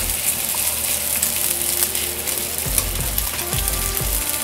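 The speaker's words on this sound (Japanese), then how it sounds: "さあ炒めよう。" Curry spaghetti stir-fries in a frying pan, a loud, continuous close sizzle with scraping stirs and clunks of the utensil against the pan.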